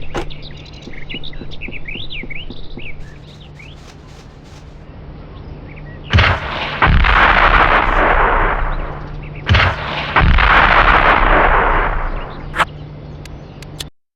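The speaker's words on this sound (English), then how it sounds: "bazooka rounds are still ineffective" Bazooka rounds firing in Hidden & Dangerous Deluxe, two loud blasts several seconds apart, each followed by a long rumbling roar, after bird chirps in the game's ambience.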